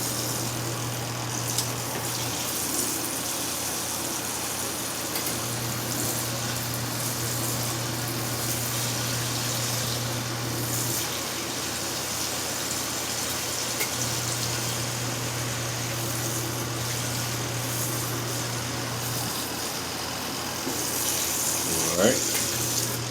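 A portable washing machine filling with water and churning, a steady rushing wash with an intermittent low motor hum cycling on and off, close and continuous, with a faint voice briefly at one point.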